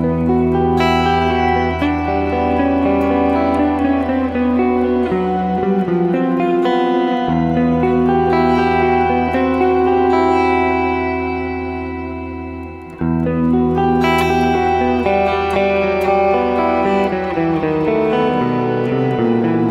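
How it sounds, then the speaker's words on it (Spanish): Electric guitar run through a Line 6 POD HD500 with a shimmer effect, sustained chords blooming into bright, octave-up reverb tails that swell and linger, loud and alone with no voices. "vamos a ponerle el shimmer a ver cómo suena"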